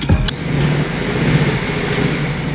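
A Ford Mustang with a manual transmission being driven, its engine a steady, loud mid-pitched drone with a couple of sharp clicks at the start.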